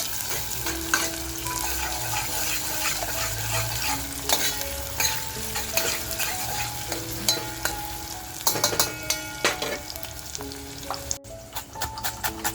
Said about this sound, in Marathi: कांदा बघ आपल्याला छान परतवून घ्यायचा आहे